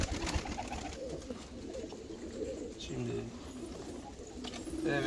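Hungarian tumbler pigeons coo in low soft repeated calls amid constant background noise, with someone talking nearby.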